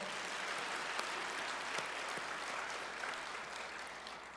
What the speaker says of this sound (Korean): 다 같이 하나님께 영광의 박수를 올려드리겠습니다.